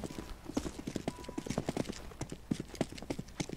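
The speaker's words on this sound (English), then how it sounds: "footsteps coming from this way" Rapid, evenly paced footsteps in CS:GO, a crisp clopping run that carries on throughout at moderate loudness, with faint voice chatter underneath.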